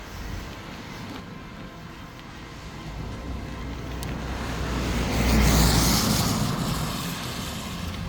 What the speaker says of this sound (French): T'as une voiture derrière moi.